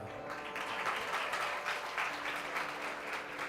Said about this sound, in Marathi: सगळ्यांच्या टाळ्या वाजतील तेव्हा